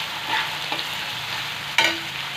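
Chicken liver drops into onion masala frying in a pan, a close steady sizzle with stirring scrapes and a sharp burst of hissing as the liver goes in.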